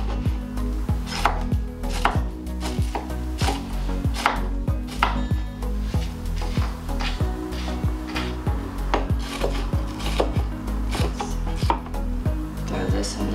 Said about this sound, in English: And I'm gonna start by chopping up everything.